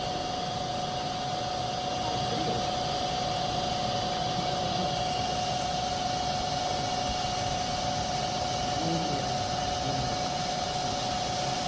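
Small CNC machine running steadily as its spindle is lowered to find the zero point on the workpiece, a constant loud motor whine and hum with an even noisy roar and no talk.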